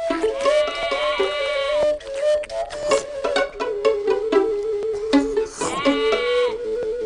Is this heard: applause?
no